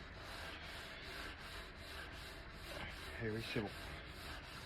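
Hand sanding block rubbed over the lower part of a car body during prep before painting gives a steady, close, scratchy rasp, with a brief voice near the end.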